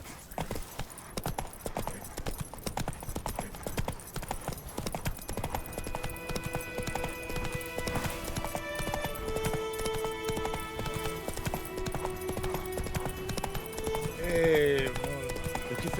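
Hooves of the horse Roach clopping steadily at a gallop in The Witcher 3, a fast repeating rhythm up close, with game music tones and a voice speaking over it.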